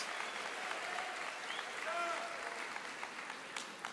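Church congregation clapping in praise during a worship service, a soft, continuous patter of many hands heard from a distance, fairly faint, with a few voices mixed in.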